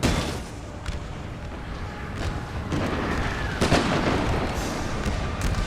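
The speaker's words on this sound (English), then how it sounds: "I've constantly got mortars hitting their field too." Mortar rounds from Napoleon: Total War slam into a battlefield, with repeated dull booms and cracks over a constant rumble of distant gunfire and battle noise.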